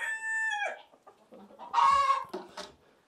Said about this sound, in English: Bad dog chasing the chickens.